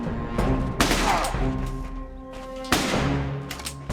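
Turret gunfire in the fantasy video game Legends of Aethereus, a dense run of bursts with sharp onsets near 0.8 and 2.7 seconds over steady tonal game music and effects.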